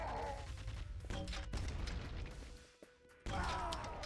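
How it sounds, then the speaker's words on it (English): Grenade launcher fire in the video game Quake 2 comes as a rapid series of muffled thumps and explosive crashes with mechanical clicks, moderately quiet and dense, cutting out briefly before another burst. "to the nade launcher"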